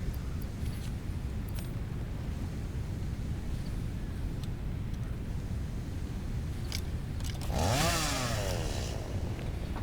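A chainsaw fuelled by solid biofuel cuts down trees in the video game Satisfactory, a brief rising and falling engine whine with a sweeping pitch bend near the end over a steady low rumble.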